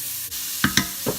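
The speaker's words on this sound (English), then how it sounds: "I heated up a little bit more oil, and I'm going to add 3 shredded organic carrots." Shredded organic carrots hit hot oil in a pan on the stove, giving a soft sizzle broken by three quick stirring scrapes and clatters near the mic, with no talking.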